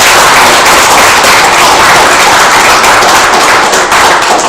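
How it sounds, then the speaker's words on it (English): Close, loud, dense clapping from an audience at a robotics club meeting, a continuous wash of applause for presenters that holds steady throughout without any talk. "everyone please give a round of applause to those presenters"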